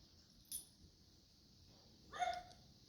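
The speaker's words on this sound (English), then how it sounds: "So there it was, that one bark" A single short dog bark sounds during a training session, faint and somewhat distant against a quiet room, preceded by a brief light click or jingle.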